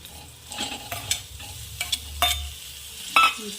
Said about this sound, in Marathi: आता कारले ॲड करू